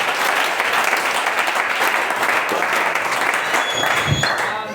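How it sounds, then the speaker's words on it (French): A church congregation breaks into loud, sustained applause and cheering after a sermon, the dense clapping filling the room without pause. "Acclame le Seigneur si tu as compris."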